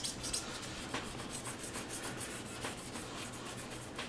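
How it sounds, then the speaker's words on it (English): Old stock thermal compound is scrubbed off a Corsair H100 CPU cooler with a cloth, making a fast, steady rubbing and scouring close by. The repeated strokes run throughout, and no one speaks. "now I'm just going to dry it off and scrub it off real good"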